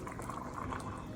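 Butter simmering in a pan while being clarified into ghee, a steady bubbling hiss of liquid that runs on without a break at an even, moderate level.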